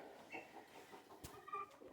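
Soft, close clucking from a chicken or two settling in for the night, a few short murmuring calls with a light rustle, fairly quiet and brief.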